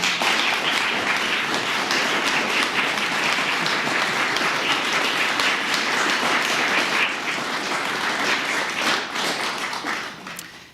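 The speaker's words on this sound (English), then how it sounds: "Audience, I feel they deserve applause." Sustained applause from a large audience at a mayoral debate forum, dense steady clapping that continues for several seconds before tapering off at the end.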